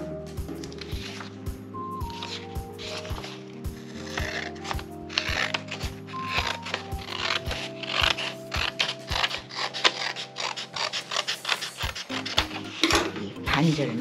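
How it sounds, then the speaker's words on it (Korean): Scissors snip through folded A4 paper in a quick series of crisp, close clicks and cuts over soft tonal background music. "가위로 잘라주세요"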